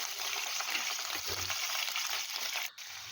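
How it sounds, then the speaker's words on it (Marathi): Stuffed capsicums fry in hot oil with a bright, steady close-up sizzle that runs continuously before a brief interruption near the end. "शिमला मिरच्या आपल्याला तेलामध्ये पाच मिनटं फ्राय करून घ्यायच्या आहे"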